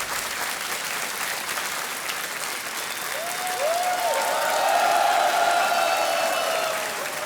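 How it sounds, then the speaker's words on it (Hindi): A studio audience on a TV quiz show applauds in a sustained, dense round of clapping. It swells slightly toward the middle, with a few faint tonal sounds mixed in. "तालियां बजती रहे।"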